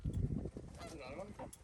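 Two geese honking as they fly straight in over a loaded cattle pond during a goose hunt, a short burst of calls at close range with faint voices underneath.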